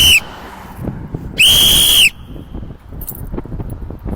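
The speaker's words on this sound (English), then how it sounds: "I need to get a new whistle though." Two loud, steady blasts from a hoarse whistle at a street protest, a short one at the start and a longer one a moment later, over faint background clatter.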